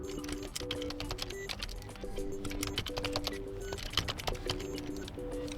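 Rapid keystrokes on a Dell Latitude 3520 laptop keyboard as a password is entered, a steady run of light clicks close up with no talking.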